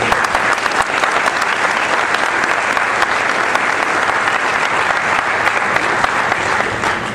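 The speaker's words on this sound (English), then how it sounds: "if you guys could just give a big round of applause for Will Grief and Todd Taylor" Steady, dense applause from a convention panel audience honoring two Star Wars store display collectors, a sustained wash of many hands clapping at once that holds evenly throughout with no voices standing out.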